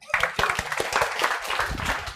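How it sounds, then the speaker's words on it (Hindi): A classroom of students gives loud applause during a CA Foundation law lecture, a dense run of close, sharp claps lasting a couple of seconds. "इन लोगों के लिए भी एक बार जोरदार तालियां"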